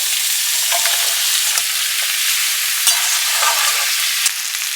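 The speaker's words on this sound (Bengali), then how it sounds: "সবজিগুলো কিন্তু ভালো করে ফ্রাই করে নেবে, তা না হলে একটা র সবজি স্মেল চলে আসবে" Beet, carrot, beans, potato and onion fry in a pan, giving a loud, continuous sizzle close by, with occasional scraping clicks as the vegetables are stirred.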